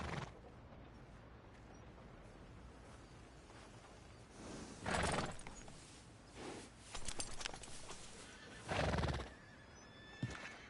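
Horse neighing and whinnying in a PS4 video game, set at a stable, with bursts of whinnies repeating over several seconds amid soft hoof clip-clops and ambient background.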